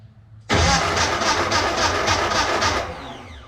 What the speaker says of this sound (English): so now what I gotta do is start the tractor redneck ways